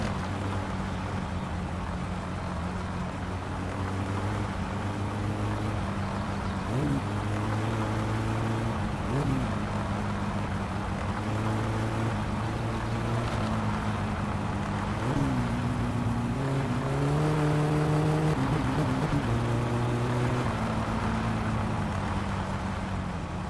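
Car on race tires driving in the My Summer Car video game, a steady engine drone with harmonic tones that rise and fall as it shifts and revs, continuous and fairly loud throughout.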